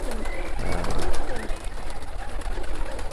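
Local breed pigeons cooing in a loft, soft repeated low coos close by over a noisy, breezy background.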